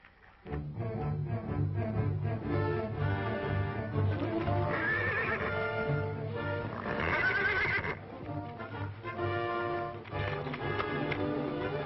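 A horse whinnies loudly and repeatedly while its hooves clip-clop steadily close by, with no talk over it.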